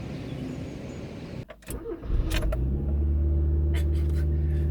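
A Mazda 323F engine cranks and catches partway through, then settles into a steady, low idle, heard up close after a quieter stretch of background rumble.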